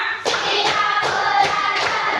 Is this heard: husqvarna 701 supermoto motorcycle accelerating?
no